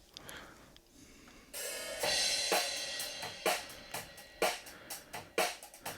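Drum kit captured by a pair of Neumann K184 condenser overheads pointing down over the kit: a steady run of crisp, bright hits with splashy cymbal wash, heard alone with no talking.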